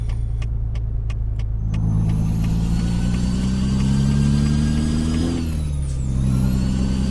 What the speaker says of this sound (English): Let's check out the Jake brake